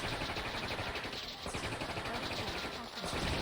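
Sustained barrage of howitzer artillery and gunfire in the real-time strategy game Warzone 2100, a dense, continuous roar of overlapping blasts at steady loudness with no pauses.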